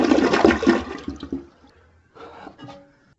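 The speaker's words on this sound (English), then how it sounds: "when I shut off the water supply, I'm going to flush this" A newly installed Delta toilet flushes with its water supply shut off: a loud, close gush and swirl that drains away over about a second and a half, followed by fainter gurgles and trickles in the bowl.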